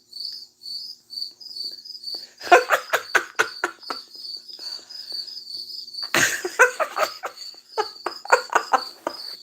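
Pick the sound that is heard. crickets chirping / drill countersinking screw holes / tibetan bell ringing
crickets chirping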